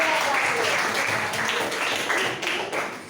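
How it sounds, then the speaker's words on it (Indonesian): A primary classroom breaks into applause for a student who correctly named the letters alif, lam and mim, a brief patter of clapping that tapers off, with voices mixed in. "tepuk tangan loh"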